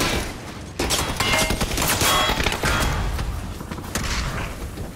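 Vehicle explosion in the battle royale shooter PUBG amid heavy gunfire, a dense, loud burst of blasts and crackling shots that continues steadily for several seconds.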